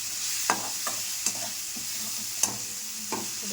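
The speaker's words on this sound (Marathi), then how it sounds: "बटाटे फ्राय होऊ देते" Potato pieces fry in hot oil in a pan with a soft continuous sizzle, broken by a few sharp scraping stirs of a spatula against the pan, close and fairly quiet.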